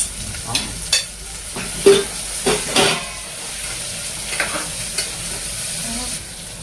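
Cabbage frying for masala khichdi, stirred in a hot pan: a steady close sizzle with repeated scraping stirs and clatters at an irregular rhythm, no voices.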